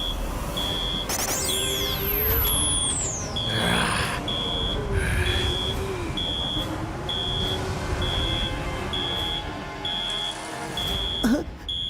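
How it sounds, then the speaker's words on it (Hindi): An alarm in a movie scene sounds as a steady series of evenly spaced high beeps running the whole time, with swooping sound effects and commotion mixed in underneath. "अलार्म अभी भी काम कर रहा है"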